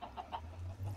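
Minecraft chickens clucking in a few short, soft, closely spaced calls over a low background hum, without talking.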